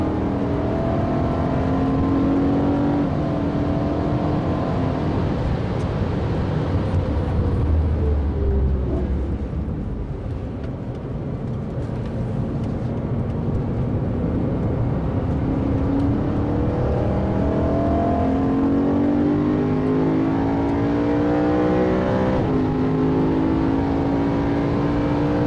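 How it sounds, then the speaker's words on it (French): Cars, a BMW M3 and a Bugatti, accelerate hard and pull away fast, their engines revving steadily with rising and falling pitch, loud and continuous throughout, with no talking. "Les bagnoles, ils sont partis vite."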